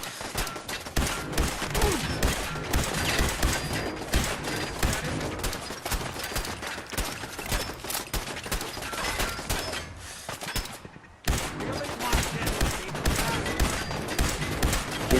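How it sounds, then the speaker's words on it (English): Sustained gunfire in Fallout 4 VR, dense rapid shots rattling almost continuously with a brief gap before they resume, loud and close. "Keep shooting him, he's healing."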